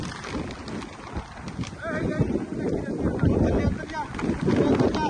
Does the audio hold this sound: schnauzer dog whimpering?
no